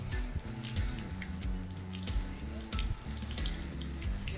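A MOLLAR MLR-WP027 12V submersible mini pump pushes water from a bucket up about one meter, and a strong stream runs and splashes continuously at close range.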